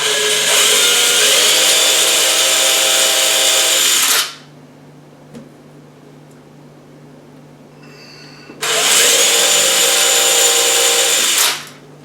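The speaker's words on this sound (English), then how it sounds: "I went ahead and just put these screws, drilling the pre-drilled slots" A power drill whirs loudly for several seconds, stops, then runs again in a second burst as it drives screws into cabinet latches, with a faint hum between.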